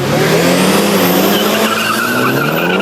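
A Nissan Pulsar GTI-R and other cars launch hard on a drag strip, engines screaming and rising in pitch with tire squeal, loud and close throughout.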